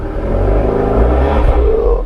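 A VW Scirocco exhaust in its louder sport sound mode, a steady deep rumble with engine whir held close and loud for a couple of seconds, with no talk over it.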